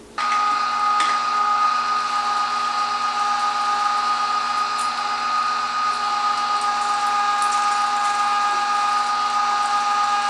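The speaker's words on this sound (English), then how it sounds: "now I've got my 3 pounds of beef fat that we're going to run through the grinder" A meat grinder runs steadily as it grinds cubed beef fat, a continuous close motor whine with a few faint clicks and knocks, and no voices.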